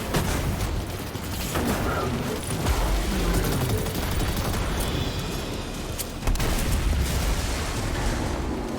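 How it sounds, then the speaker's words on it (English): Explosions in a video game rumble as a dense, continuous wash of bursts and booms, loud and steady throughout with a sharper swell near the end. "I heard those explosions from here."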